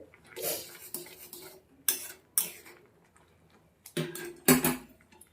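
A metal lid is lifted off a pot of boiling radish and set down, giving several sharp clanks and scrapes of metal cookware separated by short quiet gaps.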